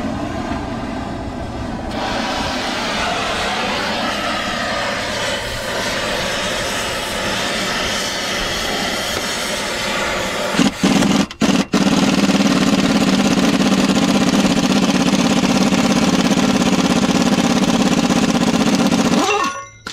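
A torch roars steadily for nearly twenty seconds while heating a bearing race on a Cat 735 haul truck, with a brief interruption partway through and an abrupt cutoff at the end.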